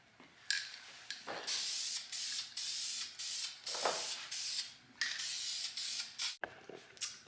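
A second coat of spray paint goes onto a car wheel during curb rash repair, heard as repeated close hissing bursts of an aerosol can, each a second or so long, separated by short pauses.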